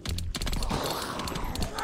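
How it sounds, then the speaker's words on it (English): Rapid automatic Uzi fire in The Last Stand: Union City, a dense continuous burst of shots lasting about two seconds, loud and steady with no talk over it. "I'll take the Uzi anytime."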